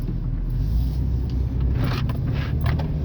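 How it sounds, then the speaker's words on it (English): Steady low rumble of road traffic rolling past nearby, with a continuous engine and tire drone and a few brief scraping swells, no voices. "Oh, we got traffic."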